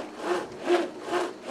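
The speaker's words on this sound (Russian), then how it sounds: "Нормально пила идет. Хорошо идет." A hand saw cuts through wood in long back-and-forth strokes, about four rasping pulls in quick, even rhythm, close and clear with no talking.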